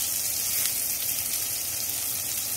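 Broccoli with salted fish stir-frying in a little oil, giving a steady, close hiss of sizzling that holds even throughout with no distinct stirring strokes and no talk.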